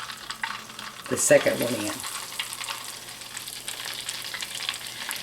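Scotch eggs are lowered into hot rolling oil and fry with a close sizzle and bubbling that flares as an egg goes in, then settles to a steady crackle while someone speaks briefly.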